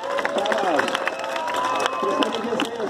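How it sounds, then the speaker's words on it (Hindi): A crowd at a first-aid demonstration gives someone scattered applause with some cheering, short bursts of claps over murmuring voices and talk. "जोरदार ताली बजाओ उनके लिए"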